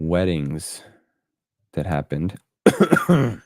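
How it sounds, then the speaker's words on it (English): A single cough lands right into a close microphone during a podcast-style live show, a short harsh burst between stretches of someone talking. "Sorry for the cough on mic."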